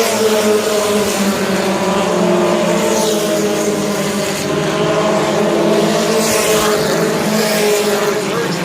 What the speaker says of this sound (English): Following Jacob Carr's truck, looking at the back tailgate of that ride, who's got the lead